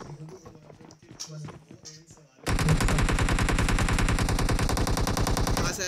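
Rapid automatic gunfire in a shooting video game bursts in and continues loudly for several seconds, after a stretch of lighter clattering in-game sounds and movement.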